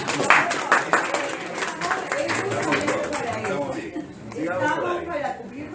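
An audience at a Spanish-language constitutional law lecture claps at first under a spoken voice, and the applause fades out as talking carries on.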